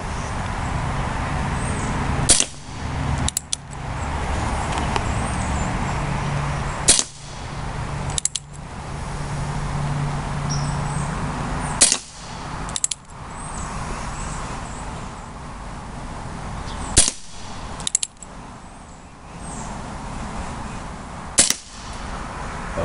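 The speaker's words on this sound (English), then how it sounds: "now we're shooting the Daisy BBs" Remington Model 1875 single-action replica revolver firing Daisy BBs, about six sharp, evenly spaced shots several seconds apart over a continuous outdoor hum, no speech.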